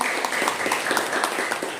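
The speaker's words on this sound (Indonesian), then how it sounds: "Tepuk tangan sekali lagi Bapak Ibu." Audience applause at an education talk show session, a steady wash of many hands clapping with scattered sharper claps throughout, moderately loud and fairly close, with no voices over it.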